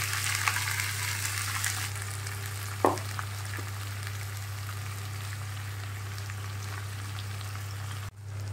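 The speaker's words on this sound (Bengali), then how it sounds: "পেঁয়াজটা তো ফ্রাই হচ্ছে, অনেকটা নরম হয়ে এসেছে" Four or five chopped onions fry in a pan, giving a steady soft sizzle over a low hum, with one light clink partway through, close and with no voices.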